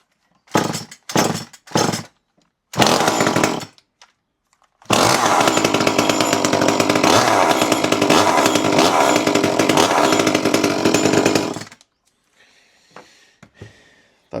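An Echo CS2511T two-stroke chainsaw fires after a few short starting bursts, then roars loud and close at high revs for about seven seconds before cutting off into near silence.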